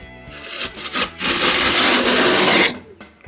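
Hand plane cutting a chamfer along a drywall board edge, a dry rasping, scraping stroke that swells through several passes into one long loud scrape before stopping, close up and with no talking.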